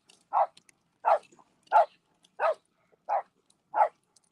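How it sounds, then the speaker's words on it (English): A dog barks repeatedly, seven evenly spaced sharp barks at a steady rhythm, close and clear against near silence. "I should have named this fucking dog Gremlin."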